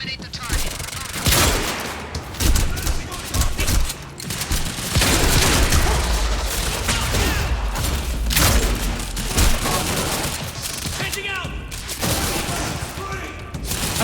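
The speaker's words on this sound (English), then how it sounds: "I put so many bullets into that man." Sustained video game gunfire, dense bursts of automatic shots and heavy booms running nearly the whole way, loud and continuous with brief dips, with a voice talking faintly underneath.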